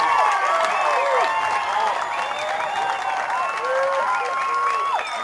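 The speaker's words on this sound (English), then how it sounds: "you hear the crowd as they approve" A high school football crowd at Fossil Ridge versus Westminster roars and cheers after a touchdown, a loud sustained mass of voices and clapping with shrill whistles and shouts rising above it for the whole stretch.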